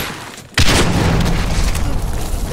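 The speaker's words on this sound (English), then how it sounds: "That man got RPG and threw a grenade." A grenade or RPG explosion in the Medal of Honor Warfighter shooter game: a sudden loud boom bursts in after a quiet half second, then a dense rumbling roar of debris and gunfire that stays loud throughout, with no talk.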